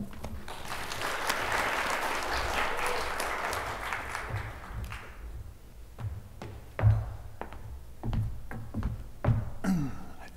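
An audience claps in sustained, dense applause to welcome a speaker at a roundtable event on China. It fades out after about five seconds, leaving scattered knocks and handling thumps.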